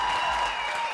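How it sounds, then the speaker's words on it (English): A small group applauds in a radio studio for a guest, brief clapping that is fairly quiet and close, with a steady tone humming beneath it. "Round of applause for the homie."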